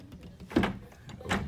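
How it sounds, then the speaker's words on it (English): A balcony door of a cruise ship grand suite slides open, giving a brief, faint scrape and a soft thud, followed by a second short rattle. "Open the door."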